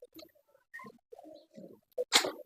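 A teddy king pigeon, a fancy breed with distinctive feathering, coos in short, soft bursts with pauses between, close by and alone, ending in a louder, breathy flutter.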